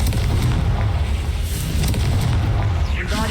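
Confringo fire spell exploding in Hogwarts Legacy, a loud, dense booming blast rumbling continuously, with a rising whoosh near the end.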